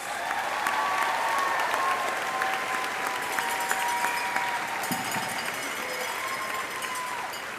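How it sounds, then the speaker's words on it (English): A large crowd applauds graduating master's degree candidates at a university commencement ceremony, a sustained, even roar of clapping in a big hall lasting several seconds. "a round of applause for all our master's degree graduates"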